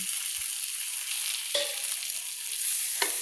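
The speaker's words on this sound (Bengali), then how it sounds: "এইভাবে আমি কষিয়ে নিচ্ছি সুন্দর করে তেলের মধ্যে গুঁড়ো মশলাগুলো আমি কষিয়ে নিচ্ছি।" Ground spices and ginger-garlic paste fry in oil in a pan for a papaya curry, a steady soft sizzle with a couple of brief stirring scrapes, close and continuous, no voices.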